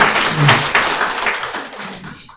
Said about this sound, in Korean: 오셨으면 자리에서 일어서 주시면 큰 박수로 환영하도록 하겠습니다